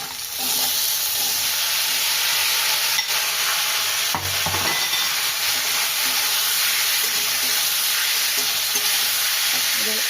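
Tomatoes frying in a pan for a Bengali-style tomato chutney give a loud, steady sizzle that runs the full length, with occasional stirring scrapes and no talking.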